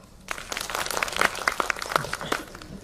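Audience applause greeting the next presenter at an education conference, a dense patter of many hands clapping across the room at moderate volume, with no speech over it.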